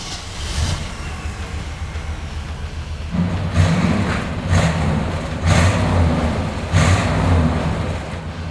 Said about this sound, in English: I'll start it, you can hear how quiet.